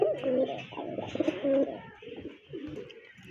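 Pigeons coo in a low, throaty rolling rhythm, two or three close phrases in quick succession, loud and clear with faint background noise.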